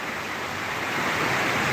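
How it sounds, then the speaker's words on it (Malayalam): Dense, roaring broadband wash of heavy rain with strong wind in Erattupetta, Kottayam district, constant and loud throughout, with no talking. "ശക്തിയായ മഴയും കാറ്റും തകർത്ത് വാരുകയാണ്"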